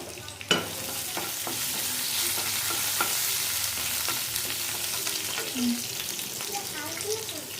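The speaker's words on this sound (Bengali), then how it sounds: "তেল দিয়ে দিছি, দুটা এলাচি, দুটা তেজপাতা, দুটা দারচিনি, একটা এলাচ" Oil frying two cardamom pods, two bay leaves and two cinnamon sticks in a pan, with steady close sizzling and occasional stirring scrapes and clinks, no talking.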